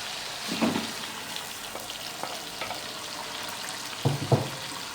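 Minced meat sizzling and frying in a pan, a steady crackle with a few louder stirring scrapes near the start and end.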